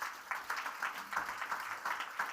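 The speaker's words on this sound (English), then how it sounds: "Please give them a big applause." Applause from an audience thanking a panel after a conference discussion, a faint spread of clapping with uneven bursts for a couple of seconds, heard from a distance.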